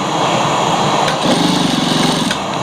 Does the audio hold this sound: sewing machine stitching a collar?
yes